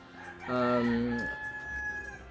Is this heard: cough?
no